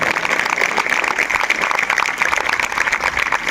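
A school group performs a scout clap together, giving a dense, continuous patter of many hands that holds steady and fairly loud, with no talk on top.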